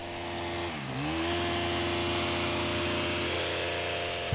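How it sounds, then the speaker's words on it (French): A Stihl CombiSystem non-adjustable hedge trimmer for medium hedges runs on its small two-stroke engine, a steady buzzing drone that dips briefly as the revs drop, then climbs and holds, close and with no talk. "Le coupe-haie non réglable est idéal pour les haies moyennes."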